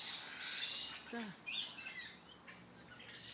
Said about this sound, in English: Here's another bird.